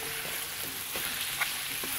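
Sofrito poured over chicken pieces in a pot sets off a soft, steady sizzle with faint stirring clicks, close by and free of speech.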